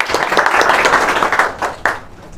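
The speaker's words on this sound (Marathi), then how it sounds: "जोरदार टाळ्या उद्या यासाठी या समोर." Audience applause in a quiz gathering: a loud, close burst of many hands clapping that holds steady, then thins out and fades with a few final claps.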